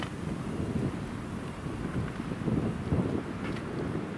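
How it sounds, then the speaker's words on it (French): A cold winter wind blows steadily at a botanical garden in Rouen, a continuous broadband rush with buffeting gusts striking the microphone throughout. "Avec un bon petit vent d'hiver qui me glace les os"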